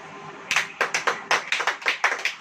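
Scattered audience clapping at a church sermon, about a dozen distinct claps in an uneven rhythm, close and moderately loud, starting after a brief quiet stretch with no talking.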